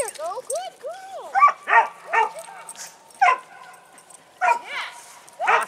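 A dog whimpers and yips in repeated rising-and-falling whines while getting its mouth rinsed with dog mouthwash, close by, with a person speaking encouragingly between and over the cries.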